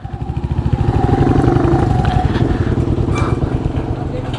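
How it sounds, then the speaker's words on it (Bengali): A touring motorcycle pulls up at the main gate of a hill-station entry point near Munnar, its engine throbbing loud and close, rising and then settling into a rumbling idle while voices sound nearby. "আর একটা বাইকার আসছে মুম্বাই থেকে।"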